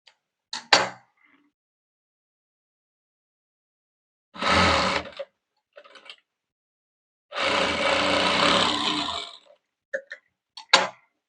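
A domestic sewing machine stitches choli blouse pieces together in two bursts of steady whirring, about a second and two seconds long, separated by silence and brief clicks of handling the fabric and machine.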